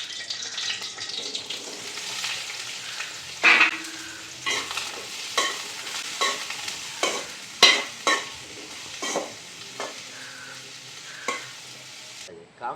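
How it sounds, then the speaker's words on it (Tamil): Eggplant fries in a pan at a village kitchen, a soft continuous sizzle punctuated by repeated louder scraping stirs at irregular intervals, close and with no talking. "கத்தரிக்காய் பொரிக்க போகிறா."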